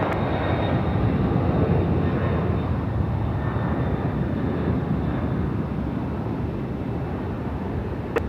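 A jet airliner rolls and climbs away on takeoff from runway 16 left at Sydney Airport at night, a loud, steady, broadband engine roar holding throughout with no other sound.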